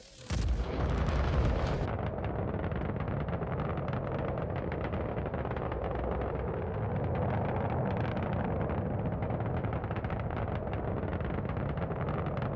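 In Star Citizen, a Drake Corsair fires a torpedo and an enemy Reclaimer ship explodes: a sharp, loud blast opens, then a heavy, sustained low rumble fills the rest of the space battle.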